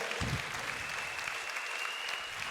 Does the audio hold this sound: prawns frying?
no